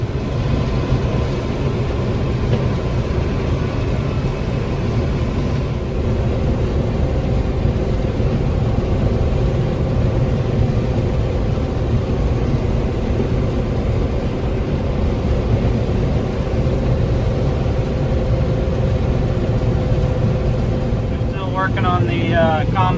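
A combine harvester cutting corn in a Kansas field gives a steady, loud low drone of engine and machinery that runs unbroken throughout, with a brief higher rattle near the end.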